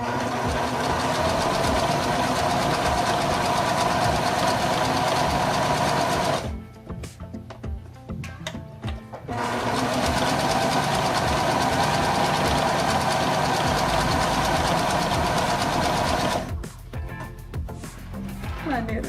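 A sewing machine runs a decorative stitch in a loud, steady mechanical whir, stopping briefly partway through and again near the end before restarting.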